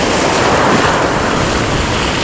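Sea waves wash onto the central beach at Lazarevskoye near Sochi, a loud, continuous roar of surf mixed with wind buffeting the microphone and no voices.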